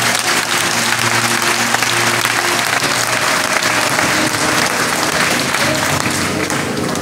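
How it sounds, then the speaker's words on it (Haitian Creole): A congregation applauds during a Baptist church service, dense sustained clapping from many hands filling the space evenly, loud and continuous with a faint voice underneath. "À nous battre un gros bravo pour Seigneur."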